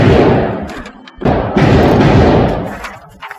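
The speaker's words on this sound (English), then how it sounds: "My first time shooting the gun." Gunshots at an indoor shooting range: several loud, close booming reports with a brief gap between groups, each with a heavy low thump and short reverberant tail, no talk.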